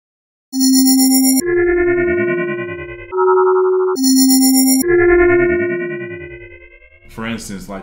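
Randomized FM synth patch in Logic Pro X playing a series of bright electronic tones with sweeping pitch glides and chirps, loud and clean, ending in a short burst of noisy texture.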